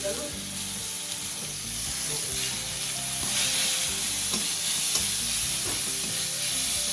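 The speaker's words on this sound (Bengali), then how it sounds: "দিয়ে দিচ্ছি পেঁয়াজ কুচি," Chopped onion frying in hot oil and stirred in a pan, a loud continuous sizzle close up with scraping stir strokes running through it.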